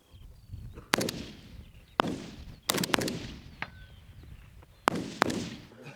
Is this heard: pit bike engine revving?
no